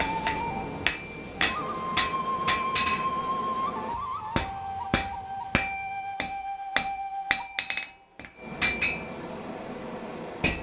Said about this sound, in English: The blacksmith does not put down his hammer until the iron is subdued